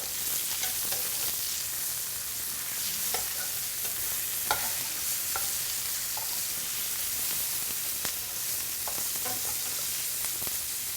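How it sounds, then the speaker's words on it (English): Andouille sausage for jambalaya sizzles steadily in a pan with a constant bright hiss, broken by scattered sharp clicks and taps as the pieces are turned, close and even in level, with no speech. "we want to flip the andouille"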